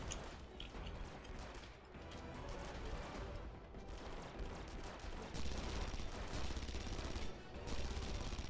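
Mounted guns blaze continuously in the Red Faction: Guerrilla game, a dense, loud barrage of rapid gunfire and blasts that grows heavier toward the end.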